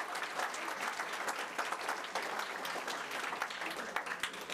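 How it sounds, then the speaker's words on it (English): A convention audience claps in a sustained round of applause, a dense, even wash of many hands filling the room throughout, with no talking over it. "Can you guys give yourself a round of applause?"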